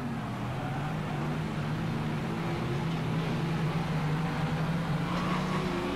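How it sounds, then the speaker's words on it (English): Stock cars race around a speedway track at the 1999 Auckland stockcar teams championship, a continuous blended engine roar from several cars at middle distance with a steady rumbling drone. "The Carter's car of Rodney Wood went round the outside."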